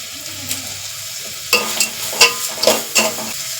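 Onions browning in oil in a pan for a rice dish, a gentle sizzle broken by a quick run of loud spatula scrapes and knocks against the pan in the second half.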